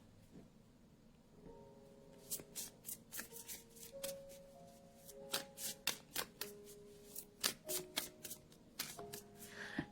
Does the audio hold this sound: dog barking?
no